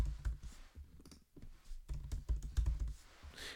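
Typing on a computer keyboard nearby, a quick irregular run of soft key clicks and taps with a brief pause in the middle, heard alone.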